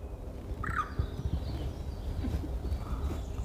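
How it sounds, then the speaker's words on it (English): A single bird call rings out briefly near the start, over steady outdoor rumble and wind. "I don't know what that bird noise was."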